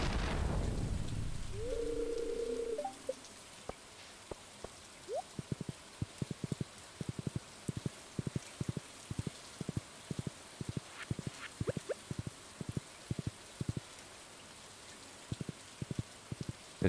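Steady rain hiss in a farming video game, joined after a few seconds by scattered dripping taps and plinks of raindrops falling irregularly, fairly quiet with no talking.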